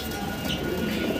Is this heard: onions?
no